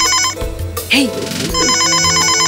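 A telephone rings with a repeating electronic ringtone, loud and close, its pattern briefly interrupted while someone speaks over it before the ringing resumes.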